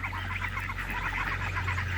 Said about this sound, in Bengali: আমি আপনাদের এখন দেখাবো আমার পোষা প্রাণী হাঁস